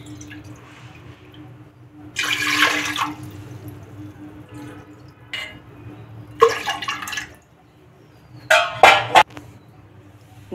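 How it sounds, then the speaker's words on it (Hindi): Water poured from a bowl into a pressure cooker while making sambar, three bowlfuls in separate splashing bursts with quiet gaps between them, close and fairly loud, no talking. "कुकर में हम 3 कटोरी पानी डाल देंगे इसी कटोरी से।"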